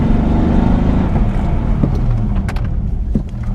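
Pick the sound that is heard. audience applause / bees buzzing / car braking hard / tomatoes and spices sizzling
car braking hard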